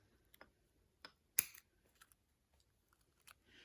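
Small scissors snip through dry birch bark for homemade incense: a few sparse, crisp clicks, with one sharper, louder cut in the middle, all close and with no talking.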